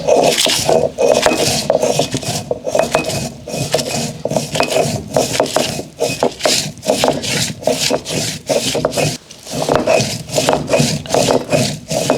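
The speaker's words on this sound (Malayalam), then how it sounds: "മുളകൊന്ന് നന്നായിട്ട് അരച്ചെടുത്തു, ഇഞ്ചി ചതച്ചു." Roasted chilies, charred in embers, and ginger ground by hand for chammanthi chutney, giving loud, rhythmic rubbing and scraping strokes that repeat steadily with brief pauses.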